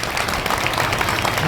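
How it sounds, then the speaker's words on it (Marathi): An audience clapping at a kirtan gathering, a loud dense burst of hand claps filling the whole moment, steady and close with no talk on top. "एकदा टाळ्या वाजवा."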